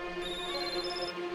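A mobile phone ringtone plays steadily on its own, a sustained electronic melody with bright held tones, close and clear, with no talking over it.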